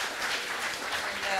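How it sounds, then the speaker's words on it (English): Audience applause after a talk at the Hong Kong Foreign Correspondents' Club, a steady, fairly soft wash of clapping running through the whole moment. "Join me in a round of applause."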